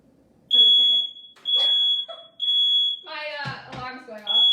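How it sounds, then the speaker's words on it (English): A smoke alarm gives several long, piercing beeps at a steady interval, loud and close, with a person talking between and over the beeps. "Sometimes the smoke alarm goes off."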